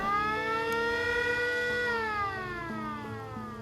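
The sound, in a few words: warning siren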